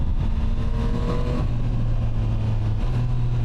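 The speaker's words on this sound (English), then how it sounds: "Let's try a auto blip downshift." A 2025 Yamaha MT-09 SP motorcycle on the move, its engine droning steadily over wind noise, with a quick shift in engine pitch near the end as it blips through a downshift.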